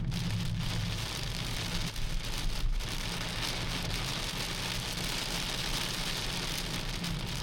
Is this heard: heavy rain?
yes